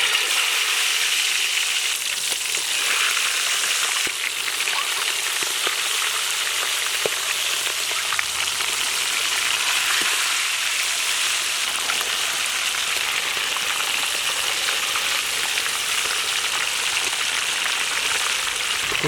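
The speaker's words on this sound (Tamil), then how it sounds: "நம்ம சிக்கனையும் பொரிச்சு வச்சுட்டோம்." Continuous loud sizzling and crackling of masala-coated chicken frying in hot oil, steady throughout with occasional sharper pops.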